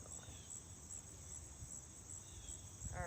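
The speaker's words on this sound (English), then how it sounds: "There's a lot of crickets and cicadas out." Crickets and cicadas outdoors make a faint, steady high-pitched chirping with a regular pulse, and a few brief bird notes come near the end.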